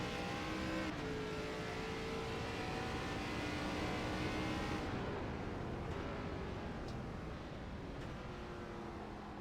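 An ARCA series race car at Mid Ohio, its engine droning steadily at high revs with shifting pitch as it is driven hard, loud and continuous with no talk over it.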